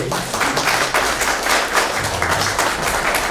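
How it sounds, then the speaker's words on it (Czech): An audience at a panel discussion gives the panelists a round of applause, dense overlapping clapping that fills the room steadily and evenly from start to finish. "teď už může přijít ten potlesk pro naše panelisty"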